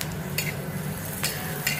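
A chili and onion thecha mixture on a hot griddle is crushed with the base of a copper pot. Several quick scraping strokes sound over a low, steady sizzle, nearby and without talk.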